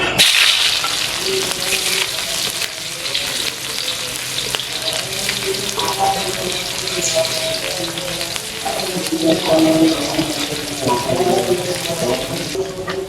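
Shallots, garlic and chili sautéing in a pan for stir-fried pak choy, a loud continuous close sizzle with clattering stirring throughout and no clear speech.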